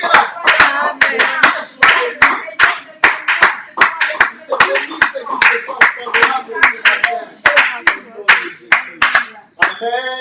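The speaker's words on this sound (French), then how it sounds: "Acclame avec joie, même si tu es seul dans ta maison, acclame." Hands clapping in joyful acclaim during a worship service, a fast steady run of loud, close claps continuing throughout, with a voice speaking over them.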